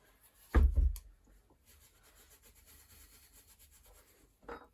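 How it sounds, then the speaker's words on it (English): Very fine wire wool rubbing rust off the wheel of a 1950 Raleigh Dawn Tourist bicycle, with a sharp scrape at the start, soft scratchy rubbing after it and a short burst at the end. "I've just got some very fine wire wool. I'm just going over this"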